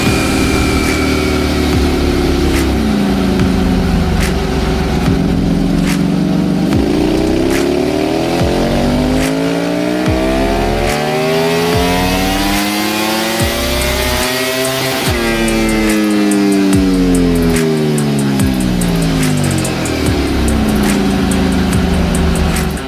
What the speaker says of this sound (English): here's a clip of the V4R on the dyno as well